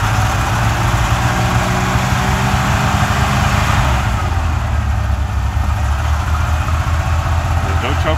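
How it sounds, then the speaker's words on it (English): An old four-wheel-drive vehicle with a disconnected choke idles rich after a cold start in a workshop, a steady low engine rumble running throughout, loud and close, with speech over it. "See how it idles rich?"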